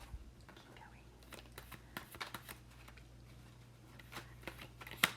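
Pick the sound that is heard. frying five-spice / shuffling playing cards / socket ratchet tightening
shuffling playing cards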